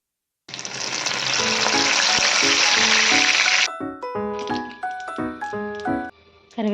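Curry leaves hiss and sizzle loudly in hot oil with mustard seeds and cumin while cooking a cauliflower curry, a dense frying crackle that cuts off sharply after a few seconds, leaving quieter clinks and stirring.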